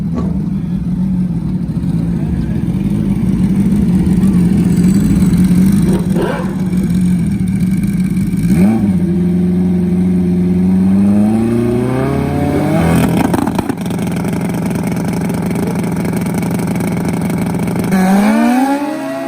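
Turbocharged Suzuki Bandit and Kawasaki ZX10 drag bikes race side by side at a Crossville, Tennessee strip, loud sustained engine drone rising in pitch through gear shifts, with a commentator talking over the roar throughout.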